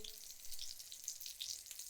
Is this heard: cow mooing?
no